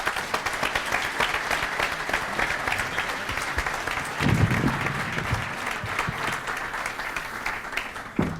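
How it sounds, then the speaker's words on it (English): Sustained audience applause fills the room at the close of a tech startup pitch show, dense steady clapping from a large crowd with a slight swell midway and faint voices underneath. "Let's hear it for them, everyone. Round of applause."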